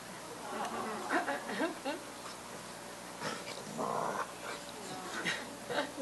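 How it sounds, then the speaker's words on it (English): A pit bull and a puppy growl at each other in rough play, with bursts of low growling and snarls rising and falling over several seconds while someone talks over them. "It's okay, it's totally play, that growl"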